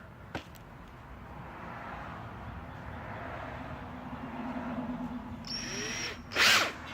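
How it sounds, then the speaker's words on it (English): A power drill running in reverse through fabric whirs steadily at low volume for several seconds, rising slightly, then a sharp brief rattle near the end. "the drill bit will snag onto it. I'm actually just running it in reverse."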